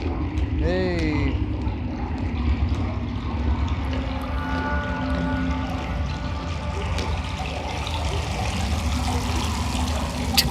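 Steady rushing and trickling water in the sci-fi game The Invincible, a continuous flow heard throughout with a few faint tonal effects and a voice speaking over it.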